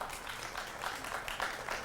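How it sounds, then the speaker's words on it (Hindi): Audience clapping fills a television debate studio, a steady, dense patter of many hands that holds at an even level for a couple of seconds with no voices over it. "देखिए मैंने नहीं कहा था ताली बजाइए, अपने आप बजिए"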